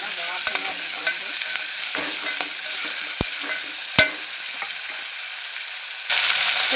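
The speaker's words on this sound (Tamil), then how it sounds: "வெங்காயம் நல்லா வதக்கணும்" Chopped shallots sautéing in a pan for a fish curry, an even sizzle broken by occasional spatula scrapes and two sharp knocks against the pan, closing with a louder burst of frying; no talk.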